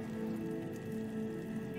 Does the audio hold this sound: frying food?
no